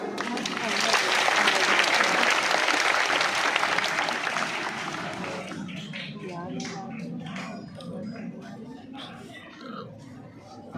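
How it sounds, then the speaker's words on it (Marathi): A school crowd applauds loudly at a 15 August Independence Day function, a dense burst of clapping that rises quickly, holds for several seconds, then fades into murmuring voices and scattered talk. "सर्वांनी वर हात करा आणि जोरात टाळ्या वाजवा"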